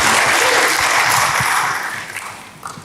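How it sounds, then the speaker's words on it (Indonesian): Congregation in a church service clapping in dense, sustained applause that fills the space, then thins and fades toward the end. "Berikan tepuk tangan bagi dia."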